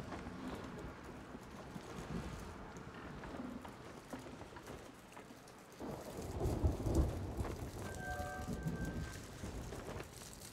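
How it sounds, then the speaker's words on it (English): Thunder rumbles low and heavy through steady rainfall in a pirate video game, a deep roll swelling in the middle of the storm, with no talking. "I can hear thunder coming in."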